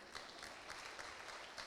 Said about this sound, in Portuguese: uma salva de palmas para o Gru